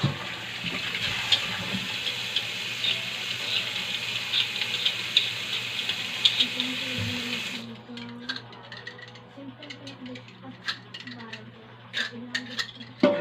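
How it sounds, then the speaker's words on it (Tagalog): Tap water runs steadily into a sink while chayote is washed for chicken tinola, then the flow stops and a few soft clunks and handling sounds follow. "Hugas tayo ng sayote."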